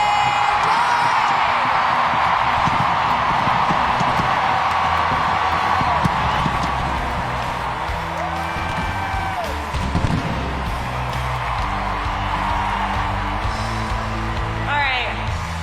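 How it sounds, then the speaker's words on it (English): Stadium crowd applauding and cheering player introductions at a 2019 USWNT vs Mexico women's soccer match, a dense, sustained roar of clapping and whoops, while an announcer talks over the noise. "A good applause there, Carly"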